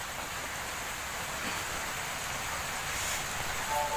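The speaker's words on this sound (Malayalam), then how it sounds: "ഭയങ്കര മഴ, അങ്ങോട്ട് പുറത്തൊന്ന് ഇറങ്ങാൻ പറ്റാത്തൊരവസ്ഥയാണ്." Heavy rain pours as a continuous, even hiss with a faint wind-like rush behind it, steady throughout and free of voices.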